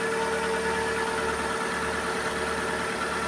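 A used car's engine idling smoothly, heard up close as a steady, even rumble with a constant tone and no revving, running alone without voices.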